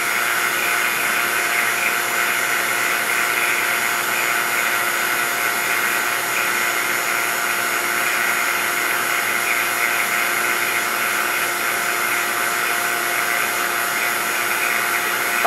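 A steady, loud mechanical whine and hiss runs unbroken throughout, a vacuum pump motor for a vacuum chamber droning at close range with no voices.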